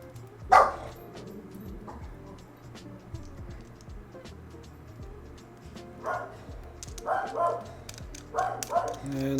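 A dog barks excitedly in a few separate bursts, one early and a cluster near the end, over a busy indoor background with some talk.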